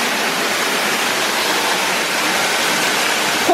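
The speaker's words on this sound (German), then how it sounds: "Und jetzt sind wir am Wasserfall. Sehr, sehr laut. Das ist wirklich laut." A loud waterfall roars inside Hagenbeck's tropical aquarium, a dense, steady rush of falling water that fills the space without pause and with no voices over it.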